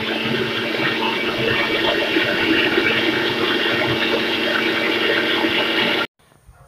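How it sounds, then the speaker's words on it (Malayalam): Blender whirring steadily as it mixes cold coffee with cocoa powder, a loud continuous motor and liquid churn lasting about six seconds before cutting off abruptly. "ഇനി ഇത് 1 മിനിറ്റ് ബ്ലെൻഡ് ചെയ്തെടുക്കുക"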